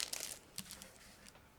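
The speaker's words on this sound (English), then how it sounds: "Next, I'm opening another plastic bag" A plastic bag of parts from a Miniart 1/72 StuH 42 Ausf.G model kit is opened, with close crinkling and rustling bursts at the start, then softer scattered crackles.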